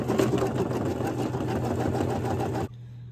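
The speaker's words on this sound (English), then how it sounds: "Okay, let's go ahead and push go, and hopefully my thread won't break again on this project." A Brother embroidery machine, the 1600E, stitching a design on key fobs: a steady, loud, rapid mechanical whir with a fast stitching rhythm that stops abruptly near the end, leaving a low hum.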